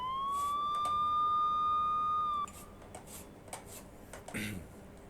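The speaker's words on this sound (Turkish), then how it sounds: "Sirenimiz aynı." A clean, electronic police siren tone from a Skoda police car in the video game TruckersMP holds steady for about two seconds, then stops sharply, leaving a few quiet clicks and taps.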